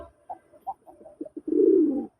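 A red-eyed, sky-blue Raj Golla pigeon coos softly in short, rounded, repeated bursts, ending in one longer, louder rolling coo, close by with no other sound around.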